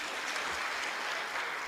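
Audience applause at a government event, dense and continuous clapping from a large crowd, loud and sustained for the whole short stretch with no voices over it.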